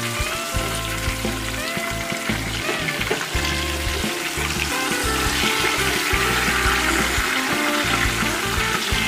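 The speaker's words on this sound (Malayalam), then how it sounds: "നമ്മുടെ കരിമീൻ ഇപ്പം നല്ലോണം ഫ്രൈ ആയി വന്നിട്ടുണ്ട്" Pearl spot fish (karimeen) fries in a banana leaf, giving a steady, close sizzle with bubbling, crackling oil throughout and no talk.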